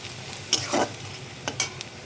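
Onions and chilies frying in a pan for a dried fish curry, with a soft, faint sizzle broken by a few short stirring scrapes.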